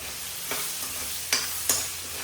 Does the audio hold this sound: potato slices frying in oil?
yes